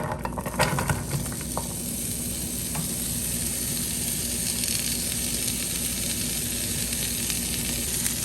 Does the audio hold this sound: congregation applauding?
no